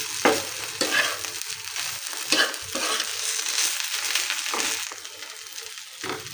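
Spiny gourd and potato mash fries in a pan, a steady close sizzle broken by repeated scraping stirs of a spatula, with no voices.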